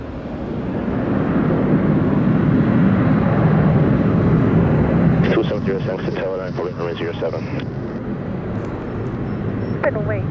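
A jet airliner roars loudly and steadily on takeoff at Montego Bay airport in Jamaica, the engine noise holding strong before easing slightly, with a radio voice talking over it partway through.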